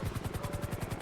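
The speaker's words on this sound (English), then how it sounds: "There's our AMR helicopter." An AMR air ambulance helicopter in GTA V thrums steadily with rapid, evenly pulsing rotor beats, heard alone at moderate distance.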